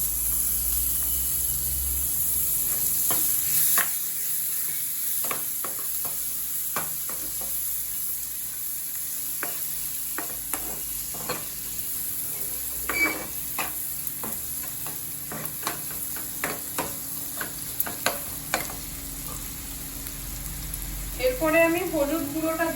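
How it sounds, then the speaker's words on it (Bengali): Chopped onions frying in a pan for paneer butter masala: a soft, steady sizzle under a constant hiss, with scattered light stirring taps and a few sharper clatters near the end. "এরপরে আমি পেঁয়াজ কুচনোটা দিয়ে দিচ্ছি।"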